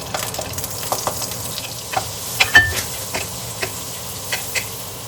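Butter sizzling and frying steadily in a pan while cooking chicken biryani, a continuous crackling hiss with scattered pops and light stirring scrapes, close and fairly loud with no talk.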